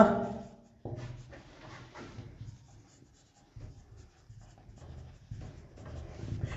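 Pen or pencil writing out points by hand during a physics lesson, a steady scratchy stroking that starts and stops in short bursts, close and fairly quiet with no talking.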